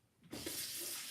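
Tap water gushes steadily into a kitchen sink as a pot is rinsed out, a broad hiss that starts abruptly and holds loud and close with no voices.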